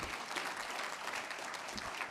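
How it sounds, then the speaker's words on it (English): An audience at an awards gala claps steadily in a banquet hall, a dense wash of hand claps heard close and without voices. "start clapping right now for my amazing wife, Mrs. Heather Packer."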